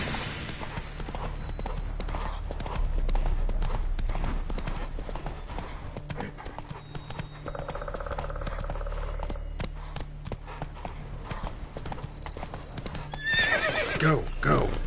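In a video game, the horse Roach gallops with a rapid, steady clip-clop of hooves, and a neighing whinny rises near the end, all under a continuous background of game sound.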